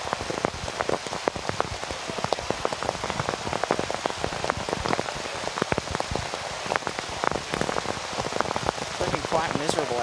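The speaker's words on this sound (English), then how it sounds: "the rain coming down even heavier now" Heavy rain pelts down on a baseball field, dense close patter of drops on surfaces throughout, steady and loud with a voice faintly present.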